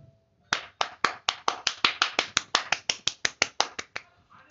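A single pair of hands claps slowly and evenly, about seventeen sharp, close claps at a steady pace after a short silence. No one speaks.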